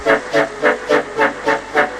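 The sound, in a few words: steam locomotive whistles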